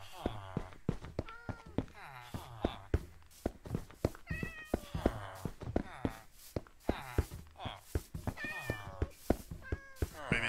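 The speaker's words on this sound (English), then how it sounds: "I'm not gonna tame any of these cats." Many cats in the Minecraft Bedrock video game meow over and over, overlapping in a busy, close chorus of rising and falling cries with soft game thuds underneath.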